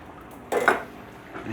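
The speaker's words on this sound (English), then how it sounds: "then we are going to add 1 8-ounce can of tomato sauce" Thick tomato sauce from an 8-ounce can plops and scrapes into a metal pot of whole tomatoes for lasagna, a short clattering burst in the middle of a quiet kitchen, with a fainter clink near the end.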